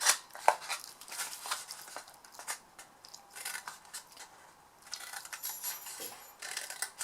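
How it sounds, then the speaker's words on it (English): Scissors snip through small squares of card to cut them into tabs for a handmade card gift set, a series of quiet crisp clicks and rasps at close range with no talking. "And then we cut these small squares into tabs."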